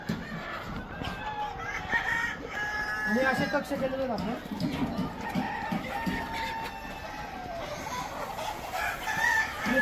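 Free-range country hens cluck and a rooster crows intermittently in the background on a poultry farm, birds resting under trees, while someone talks over them outdoors.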